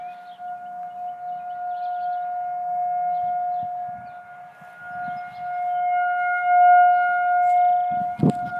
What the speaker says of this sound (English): there's a tornado siren on April Fool's Day.